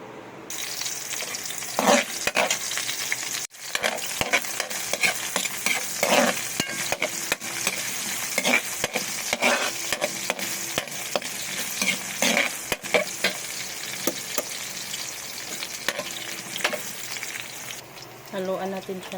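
Vegetables with sweet potato tops are stirred briskly in a pan, a loud continuous frying sizzle overlaid with dense scraping and clattering from the spatula that runs almost without pause.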